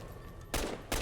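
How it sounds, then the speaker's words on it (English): Two loud gunshot blasts from Fallout: Tale of Two Wastelands ring out close together, each a broad crack with a short decaying tail over a steady background hum. "Discharging weapons in the common area is highly discouraged."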